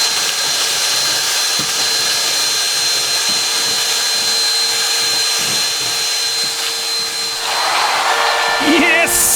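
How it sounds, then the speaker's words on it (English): Ryobi 18V cordless hand vacuum running steadily at close range with a constant loud whine, picking up screws, nails and washers, with small hard rattles and clatters of debris through the nozzle near the end. "Will it be able to handle screws, nails, and washers?"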